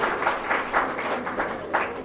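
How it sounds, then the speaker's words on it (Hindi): Applause from an audience for a prize winner at a college cultural and sports valedictory function, with uneven, pulsing claps spread through the room, moderately loud and steady. "रोहित गुप्ता के लिए जोरदार तालियां।"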